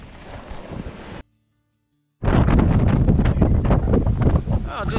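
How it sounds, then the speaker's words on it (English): A sailboat sailing close hauled and punching into a nasty chop in strong wind, with loud roaring wind buffeting the microphone and rushing water, broken by a second-long dropout. "I'm trying to punch into this nasty chop."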